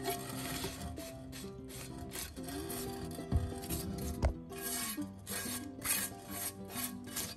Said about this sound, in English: scrape any drippings that you still have from your skillet